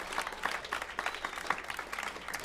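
Scattered applause from an audience at Birdland jazz club in New York, honoring an organ trio's drummer; moderate, uneven clapping with distinct individual claps, fairly distant.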